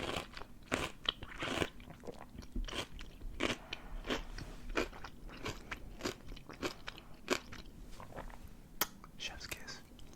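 Close-up bites into a juicy pickle give off wet, crisp crunches and chewing crackles in an irregular rhythm, with a whispered voice occasionally underneath.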